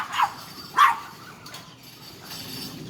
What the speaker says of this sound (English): these know it and they always yap yap yap at them